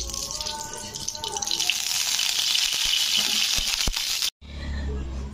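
Oil heats and sizzles in a wok (kadai) on the stove, a close, continuous crackling hiss that cuts off abruptly near the end before resuming faintly.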